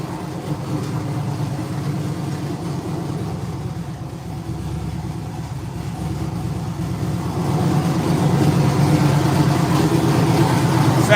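Deep, steady engine rumble from an LS-swapped twin-turbo V8 in a Nissan 300ZX Z32 with a TH400 transmission, running continuously and growing somewhat louder toward the end, with no talking.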